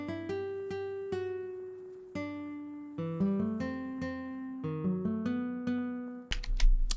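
Piano voice from the Omnisphere synth plays broken chords to go with a melodic drill beat: clear sustained notes struck in rolling, spaced groups, ringing alone and close, with a brief brighter burst of other sound at the very end.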